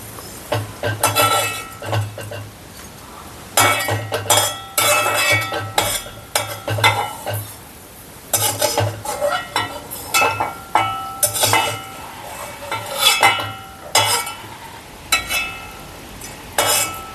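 Fried ginger being scooped out of hot oil for Kerala-style ginger curry, with a steady sizzle under repeated metal scrapes and clinks of a ladle against the pan, close and fairly loud, in bursts with short pauses.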